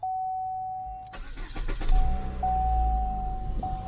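2014 Chevy Sonic 1.8L engine cranking briefly over a chime, catching and settling into a rough idle, close and moderately loud.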